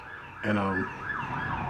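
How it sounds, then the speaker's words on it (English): An ambulance siren wails in a rising and falling pattern as it passes nearby. A short burst of a horn or voice comes just before the wail, with faint background noise throughout. "that's like the second ambulance"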